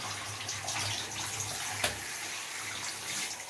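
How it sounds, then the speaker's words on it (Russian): Clean water runs steadily from a tap while a small puppy named Zoe is washed, a continuous broadband rush with a low hum underneath and one brief knock partway through, heard alone without talk. "Все, водичка чистая идет."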